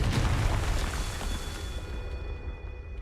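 A Confringo explosive spell blast in Hogwarts Legacy, a single loud boom that rumbles and decays over a few seconds with a faint steady tone underneath.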